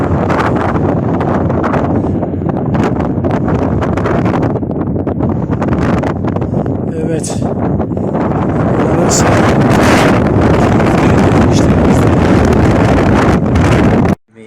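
Strong, continuous wind buffets the microphone while cycling downhill on a windy descent in Iran, a loud roaring rush that holds steady throughout, as if moving fast through open air.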